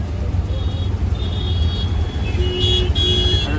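Cars stuck in a jammed road with vehicles parked across it sound loudly and continuously up close, with a couple of horn toots standing out near the end over the steady engine and traffic rumble.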